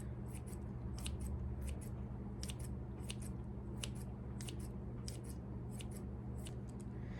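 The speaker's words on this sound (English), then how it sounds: "I'm just gonna grab a piece and I'm just gonna cut it right into my eggs." Prosciutto snipped with scissors straight into eggs: a run of about a dozen crisp, evenly spaced blade snips, quiet and close, over faint room hum.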